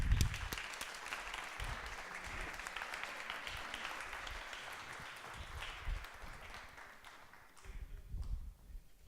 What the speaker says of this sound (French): Je demande un tonnerre d'applaudissements à Christian Bastien